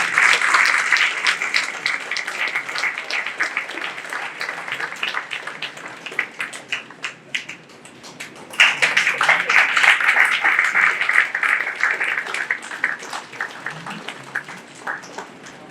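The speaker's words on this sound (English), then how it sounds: "round of applause, ladies and gentlemen." Sustained audience applause during a felicitation ceremony at an academic conference on sustainable business, steady dense clapping that dips briefly midway then swells again loudly, continuing to the end.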